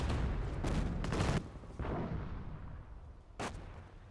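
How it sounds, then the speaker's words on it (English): Hummel artillery barrages fire in the Company of Heroes video game: a quick run of heavy booming shots, a pause, then one more blast. The shots sound fairly distant and are mixed low. "But we got a Hummel barrage now counter barraging."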